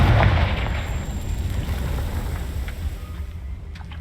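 A Confringo fire spell in Hogwarts Legacy going off as a heavy boom at the start, then a long rumbling, crackling decay that fades out, with faint clicks near the end.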